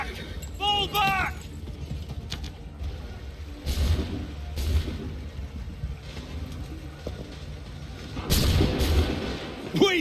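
Artillery booms and gunfire ring out in an Assassin's Creed III battle, with heavy low thuds near 4 and 8–9 seconds among scattered shots and ambient noise, while voices shout briefly in the background.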